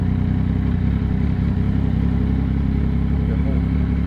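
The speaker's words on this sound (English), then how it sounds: "You're going to see the bike is moving." A motorcycle pulls away in gear during a riding lesson, its engine giving a steady, loud low rumble that fills the whole short stretch, close by and unbroken.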